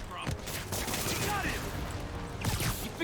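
Rapid gunfire bursts in Marvel's Spider-Man Remastered, a clattering fusillade of shots with a couple of louder cracks near the start and end, mixed with game sound effects and speech.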